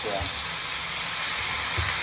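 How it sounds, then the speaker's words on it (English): Stir-fried mixed vegetables sizzle steadily in a pan as a little water is splashed in, giving a continuous broadband hiss with brief low bursts, close and fairly loud throughout. "Put a tiny bit of water so that"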